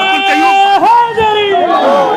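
A crowd roars back in unison to a Takbir slogan chant at a protest outside a press club in Islamabad, loud and close, with drawn-out sung voices rising and falling for about two seconds.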